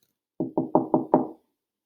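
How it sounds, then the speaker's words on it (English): Five quick, evenly spaced knocks on a wooden door, close and clear, with nothing else heard. "she knocked at the door."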